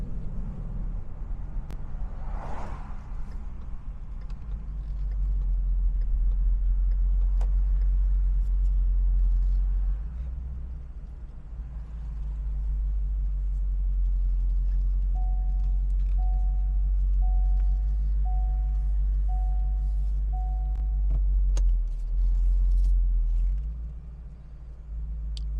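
A 2017 Ford Mustang GT Premium driving, its low engine rumble steady and close inside the cabin, with a short run of repeated electronic beeps partway through.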